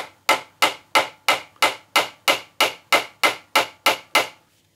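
A hammer strikes a shaft to drive it through the casing of a 1961 Grundig powered speaker, twelve sharp, loud, evenly spaced knocks close by, then it stops.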